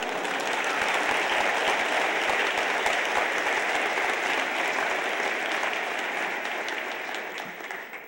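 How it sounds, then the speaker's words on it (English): Sustained audience applause at a film festival tribute, a dense, steady wash of many hands clapping that holds loud throughout and begins to taper slightly near the end. "I'm well aware that the applause is for Roger"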